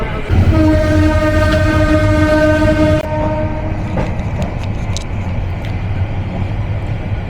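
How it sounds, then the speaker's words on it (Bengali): Tista Express train running through Tongi railway junction, a loud sustained horn blast for about three seconds that cuts off, followed by rumbling wheels and rhythmic clicking on the rails nearby. "আমাদের ট্রেন পার করছে টঙ্গী রেলওয়ে জাংশন"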